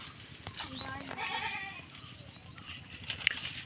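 Goats, including a female kid and a castrated male, bleat several times at moderate distance amid outdoor background noise on a rainy day, with faint voices nearby.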